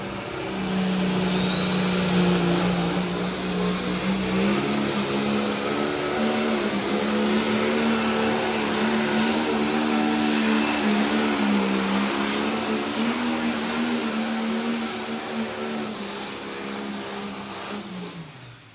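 Pulling tractor engine at a New York State Tractor Pullers Association event, a loud sustained roar that rises in pitch and holds at high revs down the track for most of the run, then fades slightly near the end.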